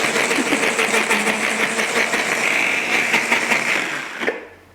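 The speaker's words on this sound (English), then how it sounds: "It definitely pays to just go along and just sort of work the onion down in the processor." A food processor mincing onion whirs loudly and steadily for several seconds, a buzzing motor drone with a slight chop, then cuts off abruptly near the end.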